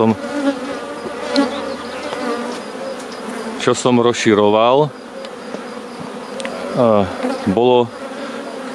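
Honey bees buzz steadily and close during a spring beehive inspection, a dense drone with louder individual bees swooping past the listener, while someone speaks Slovak briefly in the background.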